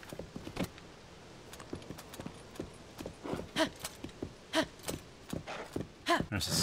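Horse hooves clip-clop in a Zelda-style video game, irregular thudding steps near and clear, mixed with soft creaks and breathy gasps and sighs.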